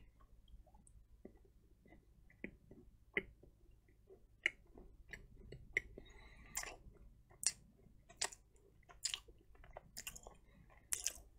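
Someone chews a bite of a MrBeast Feastables plant-based cookie close to the mic, with quiet, irregular crunchy clicks and bites that come more often and grow sharper toward the end, and no talking.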